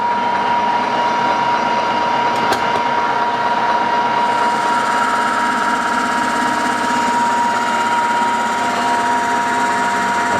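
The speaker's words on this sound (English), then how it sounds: "and I'll run the lathe faster." A lathe runs at higher speed machining a fillet radius in aluminium, giving a loud continuous mechanical whine and hum with a steady tone that shifts slightly partway through, no voices.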